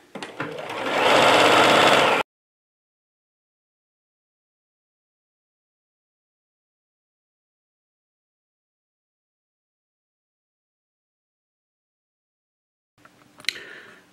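A sewing machine stitches a tablecloth seam in one loud, steady whirring run of about two seconds, then silence, followed by a brief mechanical clatter near the end.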